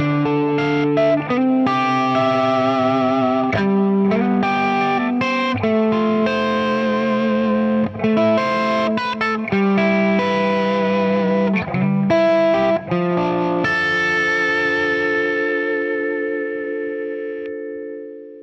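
A C.R. Alsip electric guitar on a clean tone plays a flowing lick of notes and chords, ending on a long ringing sustain that fades out, played alone with no voice.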